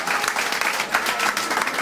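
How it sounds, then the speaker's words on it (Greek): An audience at a makeup studio presentation gives a short burst of steady, fairly loud applause, many hands clapping together in an even wash throughout. "Ένα χειροκρότημα για τη μικρή μας φίλη."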